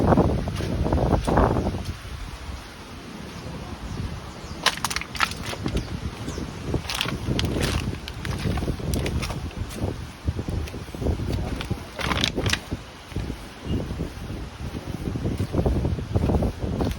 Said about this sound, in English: The wind is whipping.